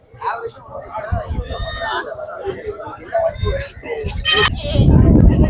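Young male goat kids at a goat market in Ettayapuram give several wavering bleats among close crowd chatter and talk, with a loud rustling burst at the end.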